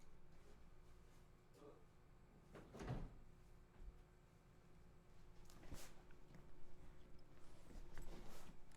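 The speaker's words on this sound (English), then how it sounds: "I shut the door to where my AC unit is" An indoor door at home, closing off the room that holds an air-conditioning unit, shuts with a few faint, distant thuds and knocks over a quiet room hum, with no speech.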